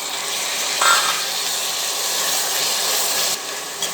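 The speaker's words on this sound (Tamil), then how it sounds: "இப்போ வெங்காயம் வதக்கிடுச்சு அடுத்து நான் தக்காளி போடுறேன்" Tomatoes drop into hot oil with sautéed onions, giving a steady close sizzle and hiss with a few brief stirring clicks throughout.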